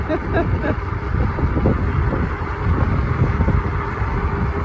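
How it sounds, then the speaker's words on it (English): Wind rushes past while someone rides an Ecotric fat tire ebike outdoors: a steady, close, rumbling roar with low buffeting that rises and falls slightly without a break. "Even though the wind's blowing, we got our back to the wind now, so it feels good."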